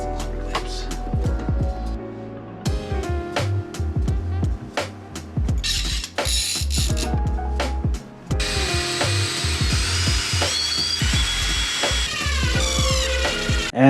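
Power tools drill and bore into wood during a DIY camper build, with repeated sharp bursts of whirring, scraping and knocking near and loud, plus brief pauses and occasional faint talk.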